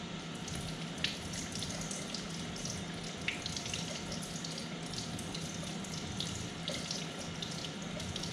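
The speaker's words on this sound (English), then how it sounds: "Let me rinse all this shit off really good." Water runs steadily from a kitchen tap over food being rinsed in a sink, a continuous splashing hiss with a few brief clinks, no talk over it.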